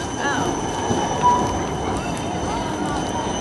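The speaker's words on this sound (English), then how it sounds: "These trams are death." A tram passing along a street in the Swiss city of Bern, a rolling rumble with faint tonal whines and squeals over busy city background noise, moderately near.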